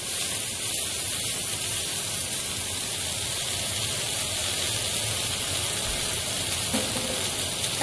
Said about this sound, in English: oh, I love that sizzling